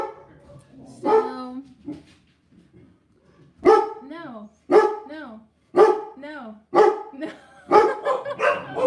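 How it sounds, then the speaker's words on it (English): A dog barks in a series of loud, close, evenly spaced barks, about six in a row, after a stretch of a person speaking at the start. "That is my dog barking."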